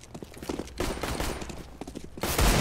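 Desert Eagle pistol shots in the CS:GO video game, several sharp bursts of gunfire in quick succession with a louder blast near the end, fairly close and punchy.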